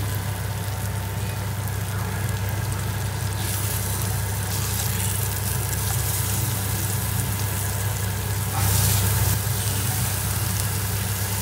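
Sabudana vada frying in a pan gives a steady, dense sizzle that runs without a break and swells briefly near the end, with no voices.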